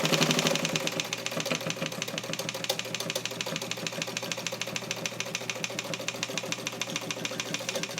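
A vintage all-metal Necchi BU Mira sewing machine, made in Italy and fully restored, stitches steadily with a fast, even mechanical clatter that runs without a break, close up and alone.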